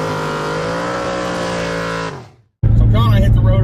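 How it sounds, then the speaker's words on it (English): A 2014 Shelby GT500 muscle car engine holds a steady droning note for about two seconds, then cuts out, and a brief louder burst of engine and road noise follows after a short silence. "hopped in the 2014 Shelby GT500 and we are heading out to the LMR Cruise In"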